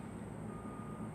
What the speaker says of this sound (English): can y'all hear that truck backing out?